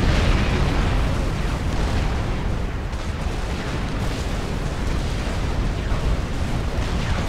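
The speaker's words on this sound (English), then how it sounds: "Lots of little labs swarming around each other," Dense, continuous game battle noise of many small lab units swarming and shooting each other in Supreme Commander: Forged Alliance, a steady loud roar of overlapping bursts and pops with no talking.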